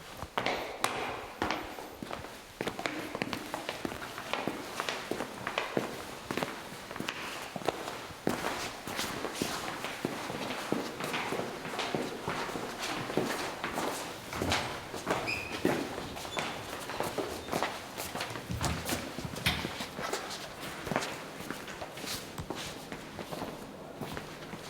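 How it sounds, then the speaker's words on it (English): Footsteps walking outdoors, a steady run of close, crisp steps on what sounds like a rough or gritty surface, continuing throughout against light ambient background with no talking. "So now we are try to collect audio of foot walking."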